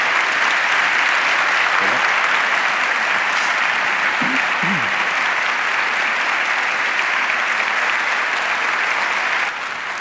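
Loud, continuous clapping from a conference crowd welcoming Pedro Baños, holding steady for nearly the whole stretch before easing slightly at the end, with faint murmurs briefly underneath.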